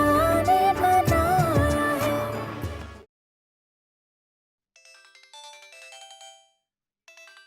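A mobile phone ringtone plays loud and melodic for about three seconds, cuts to silence, then returns as fainter, bell-like tones after a pause.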